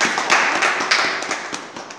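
A church congregation clapping their hands in praise, a dense burst of claps that fades over two seconds, with no talk over it.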